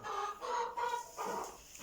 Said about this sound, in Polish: Jak widzicie kurki jedzą. Nic im to nie przeszkadza.